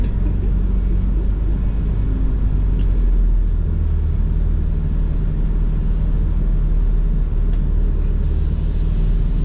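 A Yosemite shuttle bus pulls away, its engine a deep, steady rumble heard from close by, with a faint hiss near the end.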